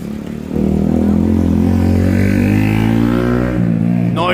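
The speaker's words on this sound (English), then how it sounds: "Stop revving that shitty little 125 engine." A small 125cc motorcycle engine revs loudly and close, holding a buzzing high pitch before the throttle drops near the end.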